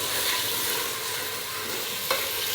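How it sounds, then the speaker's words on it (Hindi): Onion, ginger, garlic and tomato masala fries in a handi pot with a steady, loud sizzle and stirring throughout, one brief scrape of a spoon near the end. "थोड़ी देर के लिए ये फ्राई होता है"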